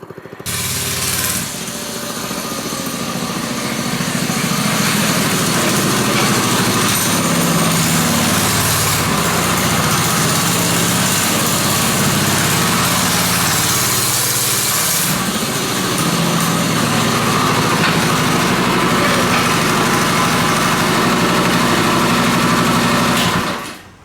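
A restomod 1940 riding lawn mower with its small engine running loud and close, a steady high buzzing drone that holds for over twenty seconds with slight swells as it revs, then cuts off at the end.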